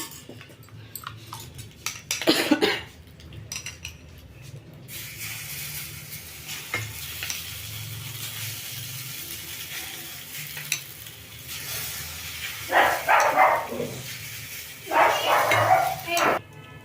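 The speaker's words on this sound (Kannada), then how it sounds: "ನೋಡಿ ಎಷ್ಟು ಚೆಂದಾಗಿ ಫ್ರೈ ಆಗಿದೆ 2 ಕಡೆನೂ. ಮತ್ತೆ ಒಂದು ಚೂರು ಎಣ್ಣೆ ಹಾಕ್ಕೊಳ್ತೀನಿ." Food frying in oil in a pan, a steady sizzle running throughout with occasional stirring and utensil scrapes, louder bursts near the start and end.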